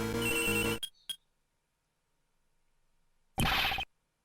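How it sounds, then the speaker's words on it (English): In the Ace Attorney Investigations video game, a cell phone rings in short, loud electronic bursts, then falls quiet for a gap of about two seconds before another burst of ringing. "That sound is... a cell phone."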